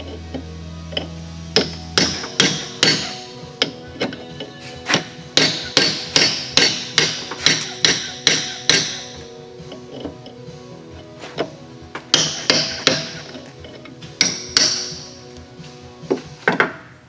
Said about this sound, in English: we're just going to hammer this nylon ball up the shaft